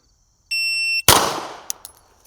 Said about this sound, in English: as soon as the beep goes off, I'm gonna bring the gun over, press the trigger